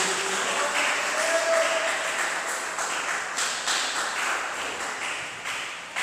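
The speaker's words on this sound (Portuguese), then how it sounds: "dê uma salva de palmas bem alegre para Jesus" A church congregation gives Jesus a joyful round of applause, with continuous, fairly even clapping from many hands at moderate distance, lasting several seconds with slight swells and dips.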